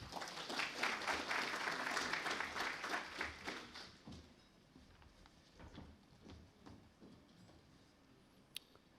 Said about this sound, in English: give a massive round of applause to Barrister Hamid Azad